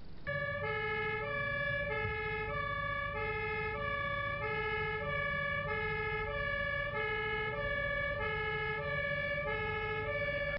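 Emergency vehicle on a German motorway sounding a two-tone siren, alternating high and low notes in a steady repeating pattern over constant traffic rumble, moderately loud throughout with no speech.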